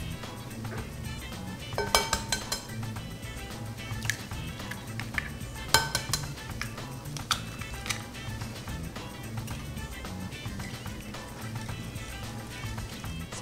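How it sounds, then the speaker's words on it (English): Crepe batter of sugar, flour and eggs is mixed in a bowl with a whisk or utensil, giving repeated light clinks and taps against the dish over a soft, steady background, with no talking. "so you put everything at once and then you mix everything very well"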